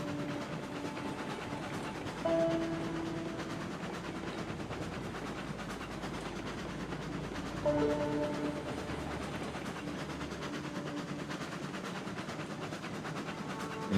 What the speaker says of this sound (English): This loco does not look like it's on the rails properly.